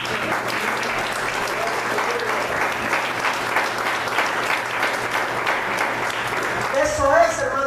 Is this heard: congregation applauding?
yes